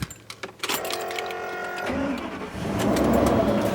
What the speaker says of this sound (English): start this engine up